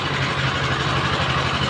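A tractor engine idles at a tractor market in Muzaffarnagar, Uttar Pradesh, with a steady, loud, low rumble that holds even and unbroken throughout, close by and with no talk.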